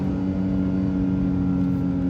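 A Honda CR-Z accelerating hard during a 0 to 60 run, its engine a loud, steady droning hum with strong tonal whine, heard close up from inside the car.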